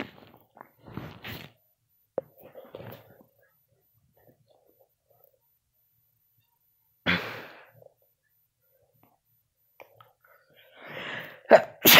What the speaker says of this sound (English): Oh, I just sneezed.